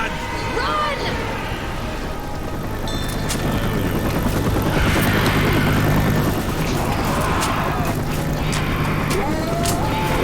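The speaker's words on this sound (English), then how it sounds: "Our chopper's here." Helicopter arriving in the video game Left 4 Dead 2, a continuous rumbling rotor drone under game noise and shouting voices, steady throughout.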